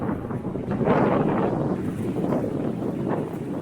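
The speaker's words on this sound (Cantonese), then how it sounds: "過去感受下嗰個風啊" Strong wind on Nokonoshima island off Fukuoka, Japan, buffets the microphone in loud, continuous rumbling gusts that swell and ease over a few seconds.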